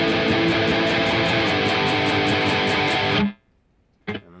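Loud distorted electric guitar plays the intro chords of a song, a dense sustained wall of sound for about three seconds, then cuts abruptly to near silence before a brief final strum.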